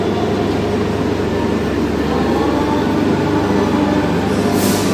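Steady low rumble and rattling hum inside a moving executive-class carriage of the Taksaka passenger train, continuous and fairly loud, with no one talking nearby.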